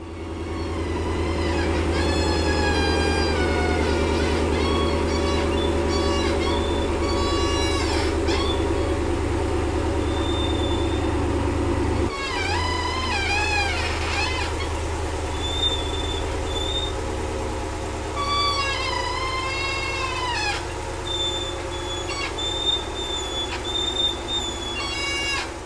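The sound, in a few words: worn uniball upper control arms noise on Ram Rebel truck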